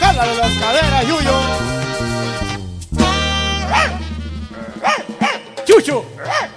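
A dog barks and yips several times during a live corridos band performance, the short sharp calls rising over loud accordion-driven music that fades partway through.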